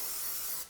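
Cooking spray hisses in one steady burst for well under a second as two 9-inch bread pans are greased for salt rising bread, then stops abruptly; close and fairly loud, with no voices.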